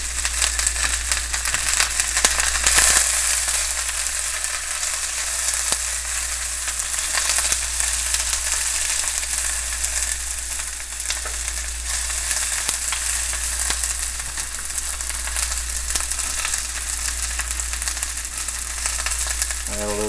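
Onions stir-frying in a smoking hot pan give off a loud, constant sizzle and crackle, with occasional clinks and rattles from stirring, and no voice over it.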